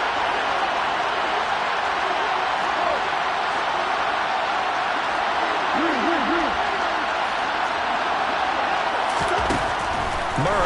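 Steady, dense roar of a Seattle NFL stadium crowd on third and two during a week 18 game, loud and unbroken throughout, with a faint voice occasionally surfacing beneath it.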